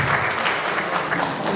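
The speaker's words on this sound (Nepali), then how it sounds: "उहाँहरूको लागि एउटा जोरदार ताली गर्नको लागि म हार्दिक आह्वान गर्दछु" An audience at an optical retailers' meeting breaks into applause, a dense, continuous wash of clapping with no voices over it.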